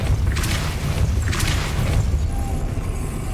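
A Depulso spell blast cast in the Hogwarts Legacy video game, heard as two loud, booming bursts about a second apart over a steady low rumble.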